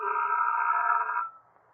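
In a radio drama, a telephone bell gives one ring of about a second and a quarter, then stops and leaves near silence.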